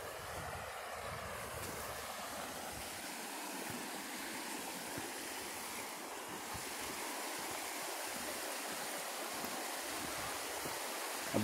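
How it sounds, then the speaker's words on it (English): Sable Falls waterfall and river rushing steadily nearby, a continuous broad wash of water noise with no breaks, alone and fairly soft. "Hear the waterfall all the time."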